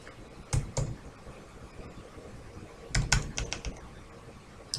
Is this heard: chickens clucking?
no